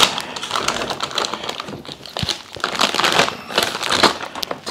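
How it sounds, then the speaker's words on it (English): Plastic bag around a battery from a Milwaukee Fuel string trimmer kit being pulled open, with loud close crinkling and rustling bursts and sharp snaps, uneven and continuous throughout. "if I can get the bag open"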